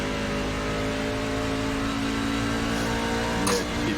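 A NASCAR truck racing at Iowa in the iRacing simulator, its engine droning at a steady high pitch with sustained tonal whine and a brief sharper burst near the end; no talking.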